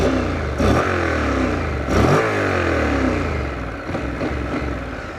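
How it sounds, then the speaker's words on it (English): A 2017 Honda NC750S motorcycle with a very quiet exhaust is revved in two sharp blips followed by a softer third, each rising and falling against a steady idle, heard up close without talk. "Ready for the exhaust?"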